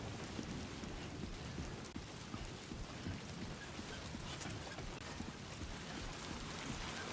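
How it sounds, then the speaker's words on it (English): Rain in the video game Death Stranding 2 makes a steady, even hiss of falling water with soft patter, continuous and fairly quiet, with no voices. "now we get to deal with the rain"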